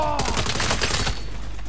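Rapid gunfire in Saints Row rattles off a fast burst of close, loud shots that fade out after about a second.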